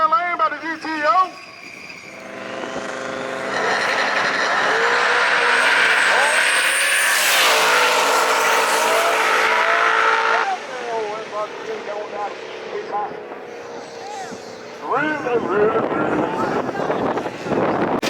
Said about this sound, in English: Big old smoking burn down the left-hand lane by the GTO.